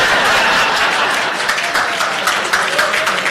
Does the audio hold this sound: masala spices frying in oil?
no